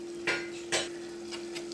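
A spoon scrapes and clinks twice in a pan as spices are stirred into a prawn curry, quiet and close over a steady low hum, with fainter knocks after.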